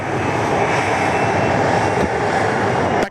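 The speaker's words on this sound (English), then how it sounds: "Here comes our United 777. Just start rolling down runway 16 right." A United Boeing 777 airliner rolling down runway 16 right for takeoff at Sydney Airport, a loud, steady jet engine roar filling the whole stretch without a break.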